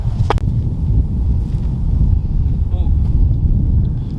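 Steady wind buffets the microphone outdoors on a disc golf course, a constant low roar that fills the whole stretch.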